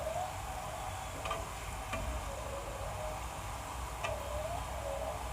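Murukku fries in hot oil and is turned over. A soft, steady sizzle continues throughout, broken by a few light taps, and stays faint and close.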